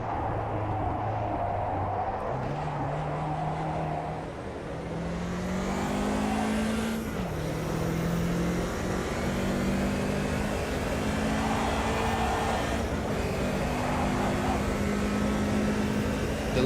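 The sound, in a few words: racing car engines at Oulton Park, from a racing video game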